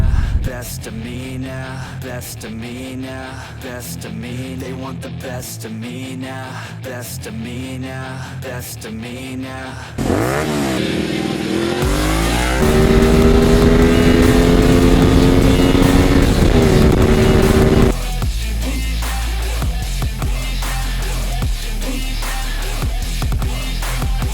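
A Honda VTR 250 motorcycle engine runs nearby, first in a pulsing rhythmic idle, then rising sharply into a loud steady rev before settling back to a lower drone.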